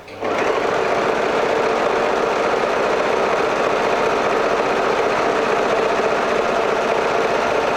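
An Usha Allure sewing machine runs steadily, stitching fabric with a fast, continuous mechanical whir that starts abruptly and holds at a loud, even level throughout.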